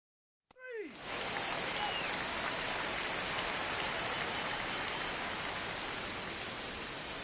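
Rain in the MLB The Show baseball game starts abruptly after a brief tonal blip and then pours as steady, loud broadband hiss for the rest of the stretch, with no pauses.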